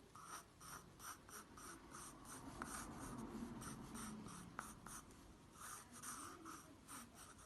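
Pencil sketching an egg shape on paper, a soft continuous scratchy stroking in rhythmic back-and-forth bursts, close and quiet, with no voices.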